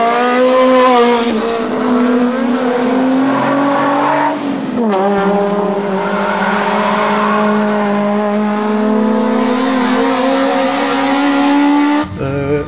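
Rally cars racing at the Biot hill climb, with a loud, close engine howling through rising gear changes and a brief lift around the middle before revving hard again, then cutting off near the end.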